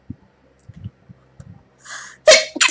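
A single person's sneeze bursts out near the end after quiet breathing and small clicks, loud and close, followed by a short snort-like exhale.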